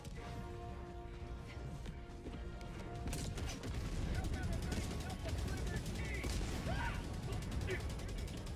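Breaker shotgun fire in Helldivers 2, heavy repeated blasts mixed into dense battle noise with other gunfire and mechanical clatter, loud and continuous throughout, with a voice talking over it.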